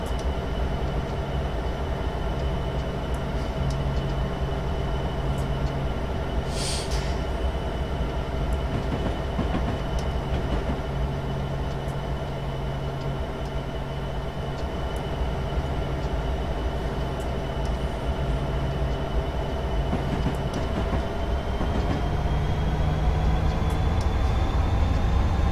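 A BNSF SD70ACe freight locomotive runs in Train Simulator 2016 on Stevens Pass, giving a steady low diesel drone and rail rumble with a faint brief horn-like squeal, fairly quiet and continuous with no talk.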